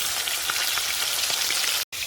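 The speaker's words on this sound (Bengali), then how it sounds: "আর এই লেজাগুলো ভেজে রেখে দেবো, এইগুলো একটু হালকা করে ভাজবো।" Fish pieces frying in oil in a wok make a loud, dense, steady crackling sizzle throughout, broken only by a very short dropout near the end.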